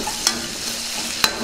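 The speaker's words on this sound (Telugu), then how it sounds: "దీన్ని కూడా ఒకసారి బాగా కలుపుకుందాం." Curry leaves and turmeric fry in a pan with a soft continuous sizzle, punctuated by two sharp stirring scrapes of a spoon; no talking.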